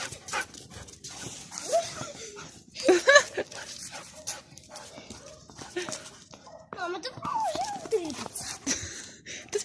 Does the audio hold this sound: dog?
yes